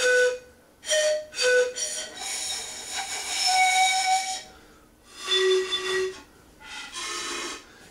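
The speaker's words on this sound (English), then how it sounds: "It's a Andean pan flute." An Andean pan flute played in short, breathy tonal phrases with gaps between them, the notes airy and slightly wavering, loud and close with no talking.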